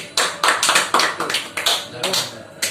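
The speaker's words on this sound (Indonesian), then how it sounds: "Tepuk tangan kepada Samri." A classroom of students claps for a classmate, a dense burst of close, uneven hand claps that keeps going steadily without a pause.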